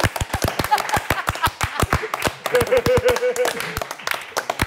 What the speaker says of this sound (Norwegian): Litt applaus for Espen.